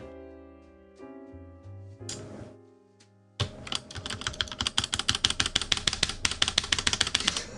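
Rapid typing on a Duckboard R2 mechanical keyboard with rattly stabilizers, close and crisp, a dense run of clacking keystrokes after a few quieter taps and a short pause.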